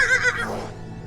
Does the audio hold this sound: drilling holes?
no